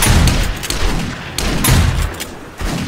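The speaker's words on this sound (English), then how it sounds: "Sniper rifle." Sniper rifle gunfire in the 7 Days to Die video game during a day 35 horde night, with several loud, booming shots in quick succession, close and punchy, over continuous battle noise.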